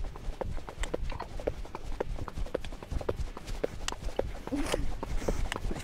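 Icelandic horse hooves thud in a steady, fairly quick rhythm under a rider, with soft repeated clip-clop beats over constant outdoor rumble and some faint background voices.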